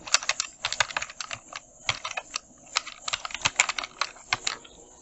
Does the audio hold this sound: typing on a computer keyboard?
yes